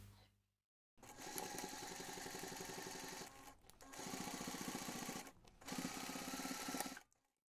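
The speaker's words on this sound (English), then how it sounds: "So now I can take this to the machine and sew those two seams at the same" Sewing machine stitching two seams at once on a DIY crossbody bag, running in three steady bursts of about two seconds each with brief pauses between, fairly close and alone.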